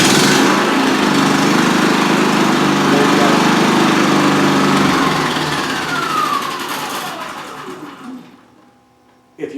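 A 3200 watt inverter generator fires up in a small room and runs with a busy, buzzing small-engine drone, loud and close, before winding down near the end with a falling whine and a brief final knock.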